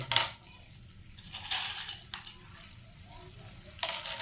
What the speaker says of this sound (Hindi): घी हमारा गर्म हो गया है, और अब हम इसमें गोंद डालना स्टार्ट करते हैं